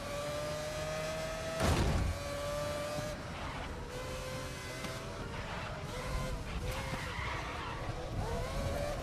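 In the racing video game GRID Legends, a car's tires squeal as it skids and spins out, the engine whining and shifting pitch over a steady game soundscape, with a brief loud thump early on.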